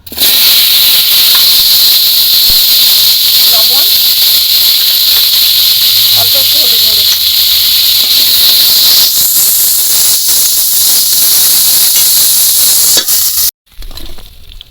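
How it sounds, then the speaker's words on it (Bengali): Potatoes fry lightly in oil in a kadai, giving a loud, steady sizzle and hiss with small crackles that runs throughout and cuts off abruptly near the end. "আমি আলুগুলো হালকা করে একটু ভেজে নেব"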